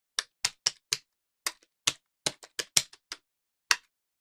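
Keys clacking on a computer keyboard as a command is typed into a PowerShell prompt: a dozen or so close, crisp taps in irregular bursts with short pauses, no voices.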